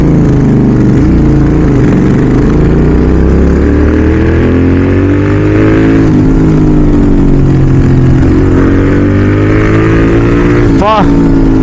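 Royal Enfield GT650 twin with a freshly fitted Red Rooster aftermarket exhaust revving loudly and continuously up close, a deep throbbing drone rising and falling through the revs, ending with a sharp blip near the end.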